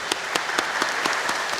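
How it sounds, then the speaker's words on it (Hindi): A church congregation at Easter Sunday Mass claps in welcome for two visiting priests: brief, evenly paced applause, fairly close and full, with no voices over it. "ताली हो जाएंगे।"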